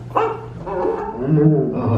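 A dog barking in Disney's Carousel of Progress animatronic show at Magic Kingdom, giving a few short yips and whimpering barks close by, mixed in with the show's voices.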